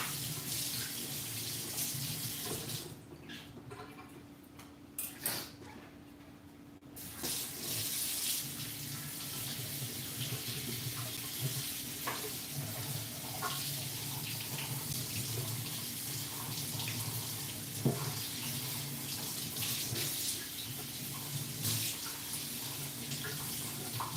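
Tap water runs steadily into a sink while something is rinsed, a continuous close rushing hiss with a brief dip in flow partway through.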